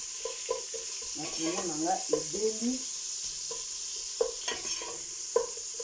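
Onions frying in a pan give off a steady bright sizzle, broken by scraping stirs and clinks, with brief voice-like sounds in the background.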